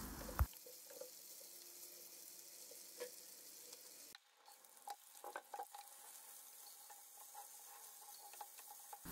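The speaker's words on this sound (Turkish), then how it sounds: "patateslerimi büyük ocağa aldım ve kavurma işlemine devam ediyorum." Potatoes pan-frying on a large stovetop burner, a steady soft sizzle with scattered scraping stir strokes; the frying hiss fades partway through and then quieter scrapes and clicks continue, with no talking.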